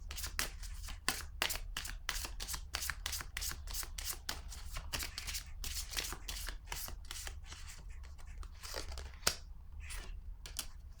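Tarot cards riffle and snap in quick, crisp bursts, slapped down onto a table one after another in a steady, close, fairly soft rhythm with no talking.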